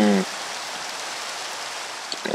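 Steady rain in a video game, an even broadband hiss of falling drops that continues unbroken for a couple of seconds after a short voice at the start, with a few faint clicks near the end.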